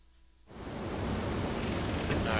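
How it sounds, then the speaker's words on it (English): Steady rain in the video game The Legend of Zelda: Skyward Sword, starting suddenly after a quiet half-second and then holding as a dense, even hiss of downpour, moderately loud, with no talking. "great, it's raining"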